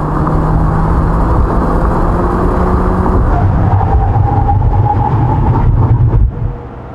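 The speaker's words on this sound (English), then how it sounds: "why don't we check out the braking performance of this all-new Hyundai Elantra with hybrid" All-new 2021 Hyundai Elantra Hybrid braking hard from speed: loud, steady road and wind roar, then a rising tire-scrub tone as the car decelerates before the noise drops sharply when it stops.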